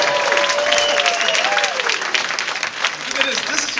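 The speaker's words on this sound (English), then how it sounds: "Give yourself a round of applause." Audience at a spoken-word poetry evening claps loudly and steadily, a dense, sustained wash of applause with faint cheering and voices mixed in throughout.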